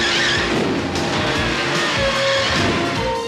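A car rolling and skidding back and forth inside the hold of an airplane in an animated series, a continuous loud roar of engine and tire squeal over steady rumble, with no talking.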